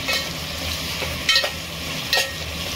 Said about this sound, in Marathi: पाहू शकता जसं कांदा ब्राउनिश होतोय, हळूहळू कलर सोडतोय, तर चांगल्या प्रकारे हे तुम्हाला हलवून घ्यायचं आहे